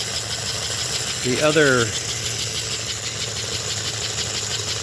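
A model train locomotive, an older Hudson-type engine upgraded for smoke and sound, runs with a steady mechanical whir and rattle throughout, with a short louder chuffing burst near the middle and some voices nearby.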